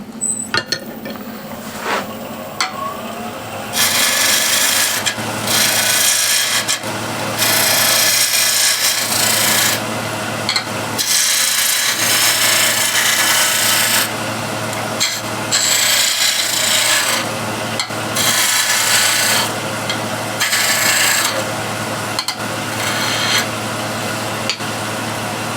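Woodturning on a lathe, a thin parting tool cutting a tenon on a wooden box blank made from scrap: steady loud rasping scrape in long bursts with brief pauses between cuts, over the lathe's constant hum.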